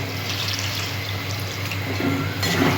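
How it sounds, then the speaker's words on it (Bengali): Water poured into a cooking pot holding a lentil-fritter vegetable curry, a steady close splashing flow lasting a few seconds. "পরিমাণ মতো জল দিলাম"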